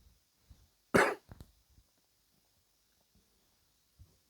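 A single sharp cough stands out in a quiet room, followed by a couple of smaller throat sounds and faint rustles.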